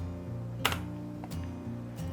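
Typing commands on a computer keyboard for CAD software: a few close, sharp key clicks spaced over a couple of seconds against a steady low hum.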